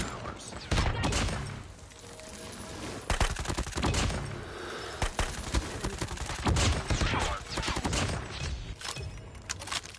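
Shotgun and automatic gunfire in a first-person shooter video game, heavy overlapping blasts and bursts, close and loud, with a player shouting over the battle at moments.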